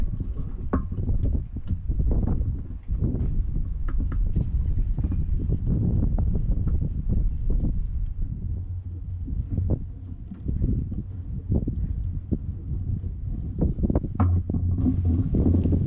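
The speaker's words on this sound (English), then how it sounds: "It is still rather windy." Strong wind buffets the microphone in rough, rumbling gusts throughout, with occasional sharper knocks and no speech.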